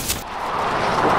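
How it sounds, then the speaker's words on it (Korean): A car tire bursts with a single sharp bang right at the start, followed by a short, rough rush of noise as the moment passes. "그때 타이어에 펑크가 나고"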